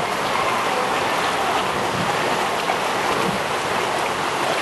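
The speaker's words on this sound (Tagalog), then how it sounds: "Papakita ko sa inyo kung gaano ang lakas na ilog na umaapaw dito" A strong, overflowing river rushes past in a continuous, loud, broadband roar that holds steady without pause; no one speaks.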